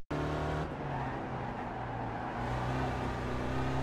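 An SRF race car engine drones steadily around Summit Point in iRacing, a loud continuous motor tone holding a near-constant pitch with slight shifts in revs, alone with no talking.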